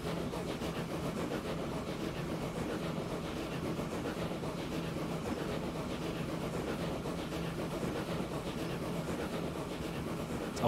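Trains running in the Transport Fever 2 video game make a steady, low, continuous rail rumble with soft rolling texture, moderately quiet and unbroken throughout.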